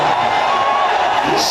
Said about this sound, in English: Listen for the roar, Hamilton.